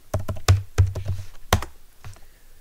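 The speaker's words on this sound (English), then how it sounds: "I will have to type the correct passphrase in order to log in." Fingers type an SSH passphrase on a computer keyboard in quick, uneven bursts of crisp key clicks, with a heavier thump on some keys and brief pauses between runs.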